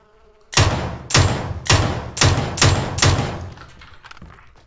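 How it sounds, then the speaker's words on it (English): Gunfire from a gun in a video game, six sharp loud shots at an even rhythm of roughly one every half second, each followed by a short decaying tail, with no voices. "I like the sound of the gun."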